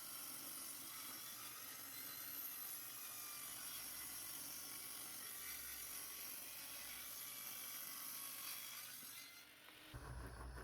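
A steady, loud buzzing saw cuts a 32-degree angle continuously through pallet wood, a dense whining drone that cuts off abruptly near the end.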